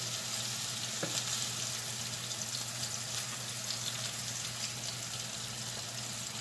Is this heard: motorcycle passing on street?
no